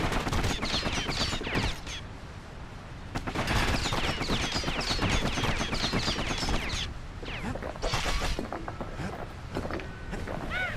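Rapid gunfire from the video game Bastion, dense bursts of shots crackling one after another, loud and close, with brief lulls, layered over game effects and action sounds.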